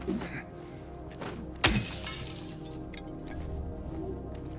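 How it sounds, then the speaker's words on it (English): Glass shatters in the video game Silent Hill 2, one sharp loud crash with a short scatter of tinkling fragments, set against low ambient game noise. "I didn't just break the glass because I wanted to break glass."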